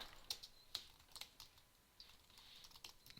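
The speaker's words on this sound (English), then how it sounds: "I'm getting tired of typing, honestly." Soft keystrokes on a computer keyboard, a few sparse clicks then a quicker run of tapping, close and quiet with no talking.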